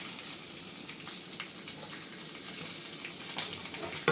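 Dried red chillies and crushed garlic sizzle in hot oil in a pan, a steady close frying hiss with faint crackles and no talk.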